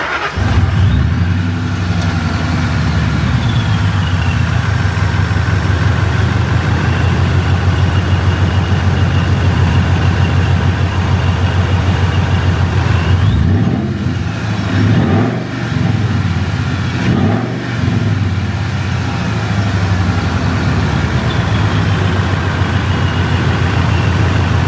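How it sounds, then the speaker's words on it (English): Supercharged 1999-2004 Ford SVT Lightning pickup with its muffler deleted, heard from inside as a loud, steady engine drone with supercharger whine, swelling in a few revs around the middle. "I just want to show you guys a little bit of the supercharger whine there and the muffler delete on it."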